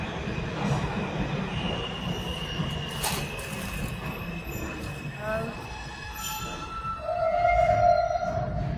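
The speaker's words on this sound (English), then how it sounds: "Train's about to be here" Subway train arriving at a platform, with a loud, steady rumble, squealing wheels, clacking over the rails and a sustained high whine as it pulls in. A voice speaks briefly under the noise.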